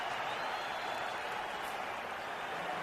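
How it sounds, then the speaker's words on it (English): A football stadium crowd at a 2005 NFL Wild Card playoff game, Panthers at Giants, roars after a Panthers false start: a steady, dense wall of cheering and clapping that holds evenly throughout without a break. "The crowd is happy with itself."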